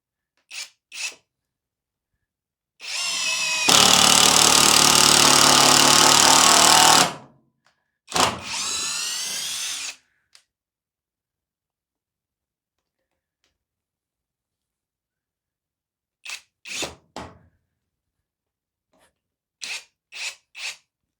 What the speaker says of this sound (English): I'm not going to pilot hole it, I'm just going to drive the 70mm screw straight in